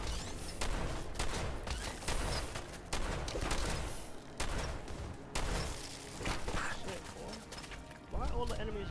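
Bursts of gunfire from the video game Fallout 4, aimed at a deathclaw's leg, come as repeated loud shots in quick clusters, with a voice talking over the action.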